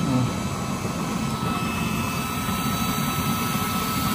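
A used-oil stove with a new-design nozzle burner roars steadily and loudly with a strong blue flame, a constant dense rushing blast like a jet, close by with no talk.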